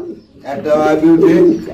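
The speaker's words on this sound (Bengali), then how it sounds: "এখানে আপনি দেখতে পাচ্ছেন এক জোড়া কবুতর রয়েছে" A pair of pigeons offered for sale give a low, throaty coo, one short rolling call rising and falling close by.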